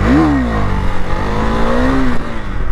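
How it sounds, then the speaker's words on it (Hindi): A KTM Duke 390 motorcycle engine revving hard at high RPM with the clutch pulled, a loud, close, sustained whine whose pitch rises sharply, dips, then swells again over a few seconds. "क्लच दबाओ, एक्सीलेटर दो"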